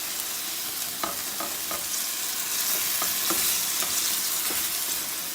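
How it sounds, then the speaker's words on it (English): Ground turkey sizzles steadily in a pan, a dense close frying hiss with a few faint scraping taps on top. "just putting my turkey in a pan. This is ground turkey."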